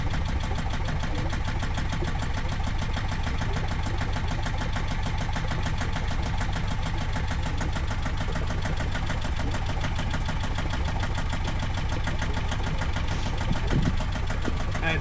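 A sailboat's engine idles steadily, with a continuous rhythmic mechanical thrum and ticking that holds constant throughout, close and fairly loud, with no talk.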